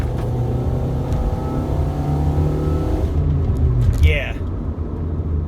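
A Nissan Altima that has been down on power, with a recently replaced clutch, pulls away from a stop onto a main road. Its engine gives a loud, close, steady rumble with climbing tones, then eases near the end.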